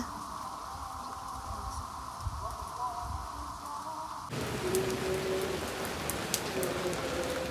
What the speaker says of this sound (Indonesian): karena hari ini hujan makin deras